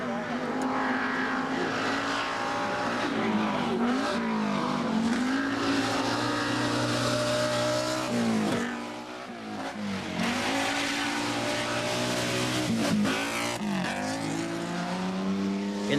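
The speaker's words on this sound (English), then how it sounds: "In the Ford Sierra and holding on to 7th place, Mavropoulos." A Ford Sierra rally car races flat out on a Cyprus Rally stage in 1988, its engine revving hard and shifting with tire noise, while a commentator talks over it throughout.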